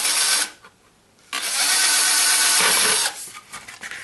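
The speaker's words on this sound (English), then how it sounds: "Okay, start drilling. This drill is cheap and nasty." A cheap, low-quality electric drill bores into stone with a loud, harsh broadband whine, stopping briefly near the start, then running steadily for a couple of seconds before cutting out into quieter handling noise.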